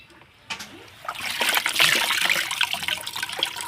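Water splashes and pours close by as a boy bathes. A short splash comes first, then a steadier, louder run of splashing and trickling water with uneven bursts.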